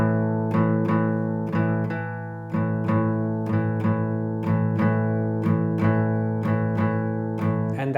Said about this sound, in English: And that's going to be our shuffle rhythm.